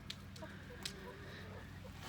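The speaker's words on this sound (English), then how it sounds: "She's a Polish chicken." A Polish hen clucks softly inside a chicken coop, faint and close, with a couple of brief sharp clicks over a low steady hum.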